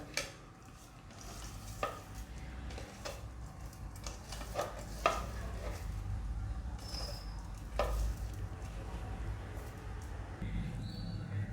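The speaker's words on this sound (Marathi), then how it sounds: "हे सगळं आता एकत्र मिक्स करायचं" Dry flattened rice (poha) is stirred with a sprinkle of turmeric in a bowl for kanda poha, making soft scraping rustles broken by occasional sharper clicks.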